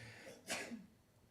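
A single short, faint sneeze bursts out once in a quiet room and then fades back to near silence.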